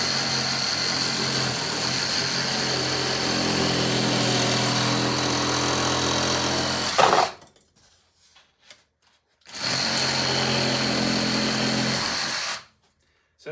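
A power tool fitted with an 8- or 10-inch blade carves foam rocks for a model train layout, a loud, steady whirring grind lasting several seconds, then a pause and a second equally steady run.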